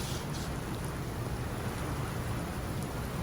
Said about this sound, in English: we're in the thick of that storm now. I don't know if you can hear it, but it's coming down.